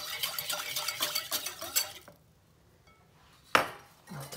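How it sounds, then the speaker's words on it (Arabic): Mixture of water, milk and salt stirred in a bowl, spoon scraping and clinking rhythmically for about two seconds, then a quiet pause broken by a single sharp clink. "نحرك هادشي مزيان"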